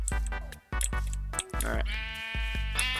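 Sheep in the Minecraft video game bleat several times in quick succession, loud and close, each call a buzzy wavering tone, with short gaps and overlapping calls between them.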